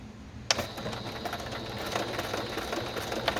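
A sewing machine backstitching through fabric for a soft-cover junk journal, starting abruptly and then running as a steady close mechanical whir with rapid stitching ticks.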